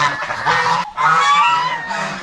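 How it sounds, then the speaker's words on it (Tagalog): Farmyard turkey and duck calling in loud, close, honking bursts, two main calls separated by a brief gap, with no one talking. "May pabo dito. Pato."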